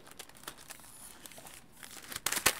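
Plastic packaging around a Logitech POP Keys mechanical wireless keyboard crinkles and tears close up, soft rustles building to a loud crackling burst near the end, with no voices.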